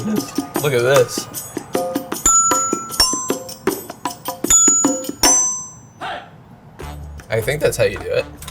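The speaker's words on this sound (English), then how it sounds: "Your doorbell is incredible." A doorbell at a paper artist's home rings as a string of bright, clinking bell strikes in a quick irregular run, mixed with voices greeting each other nearby.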